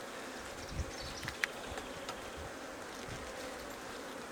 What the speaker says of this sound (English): There's a lot of bees in this colony.